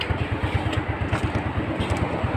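A 2011 motorcycle warming up at idle, a close, loud, rapid and even engine putter with rhythmic low thumps and light mechanical clatter.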